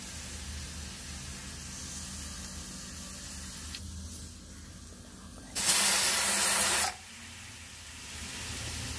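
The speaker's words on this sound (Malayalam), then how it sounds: "കുക്കറിൽ ആദ്യത്തെ വിസിൽ കേട്ടാൽ ഉടനെ തന്നെ ഫ്ലെയിം സിമ്മിലാക്കാം" Pressure cooker of sambar on the stove, releasing steam: a faint background hiss, then a loud, close burst of steam lasting about a second and a half before dropping back.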